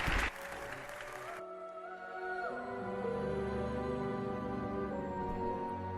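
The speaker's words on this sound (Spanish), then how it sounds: "Un aplauso para él" Brief burst of studio-audience applause for a guest on a Spanish talk programme, loud and dense at first, then cut short within about a second as steady tonal music takes over.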